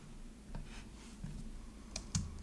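A mouse clicks while sending an invoice by email in the Dubsado web app, a few sharp close clicks and light desk taps over a quiet room hum.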